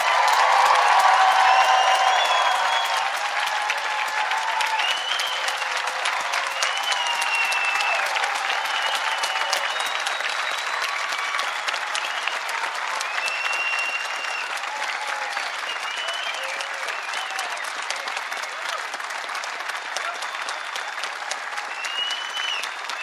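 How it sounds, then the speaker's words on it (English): Sustained, dense applause from a large commencement crowd honoring Vermont Law School's graduating class of 2017, loud and steady for over twenty seconds with scattered cheers, easing slightly toward the end. "please recognize with your applause the achievements and distinctions of Vermont Law School's 42nd graduating class"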